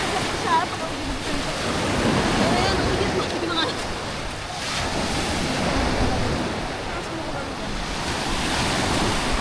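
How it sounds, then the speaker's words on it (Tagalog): Strong surf crashes onto a crowded, hot beach, with loud waves surging and rushing in continuous swells and wind buffeting the microphone, while people talk faintly nearby. "Maalon lang dito, oh. Sobrang alon."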